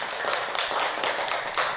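Applause for a student group after its classroom presentation on electrical transmission systems, a dense patter of many hands clapping steadily through the moment with no voices over it.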